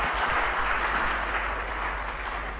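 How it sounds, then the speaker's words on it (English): An audience at a Ghanaian national address applauds, giving a dense, even wash of clapping that holds at a steady level without breaks and has no talking over it. "Please, a bigger round of applause for him."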